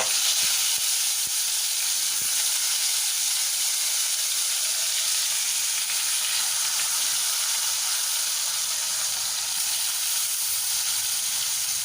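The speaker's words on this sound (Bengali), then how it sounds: "কড়াইতে খানিকটা তেল গরম বসিয়ে মাছগুলো আমি ঢেলে নেব" Rohu fish pieces frying in hot oil in a kadai give a steady, loud, close sizzle that runs unbroken throughout, with a few sharp pops near the start and no talking.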